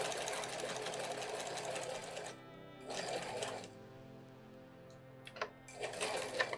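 A sewing machine backstitches at the end of a quilt block, with short bursts of fast, rattling stitching broken by quiet pauses and a few small clicks, all faint and close.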